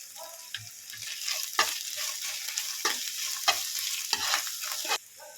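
Green chilies frying and being stirred in a pan with ginger-garlic paste, a steady close sizzle broken by scraping and clacking strokes of a spatula, ending abruptly.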